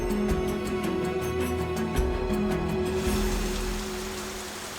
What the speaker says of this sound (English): It rains here virtually every day.